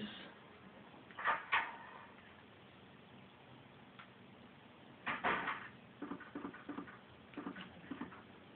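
A door opening in the Resident Evil 2 video game, heard as a couple of muffled clunks, then a longer creaking scrape and a rattling latch train of small knocks, fairly quiet over a low game ambience.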